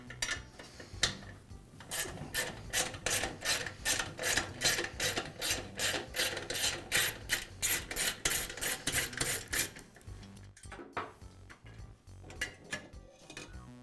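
Metal tools scrape and ratchet in quick repeated strokes, close up, as a wrench loosens a nut and bolt on a Weber portable gas grill, with a few sharper clanks toward the end.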